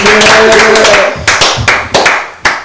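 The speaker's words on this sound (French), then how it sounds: "est-ce qu'on peut applaudir pour ça, s'il vous plaît?" A small group clapping, first a busy patter with a tonal voice or hum underneath, then settling into a few loud, evenly spaced claps in unison.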